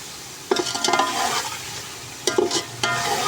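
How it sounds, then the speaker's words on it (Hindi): Potatoes sizzle in hot oil in a pan for aloo pulao while being stirred, with two bursts of scraping and stirring over a steady frying hiss, close and clear with no speech. "बस आलू जो है अच्छे तरीके से भुन चुके हैं।"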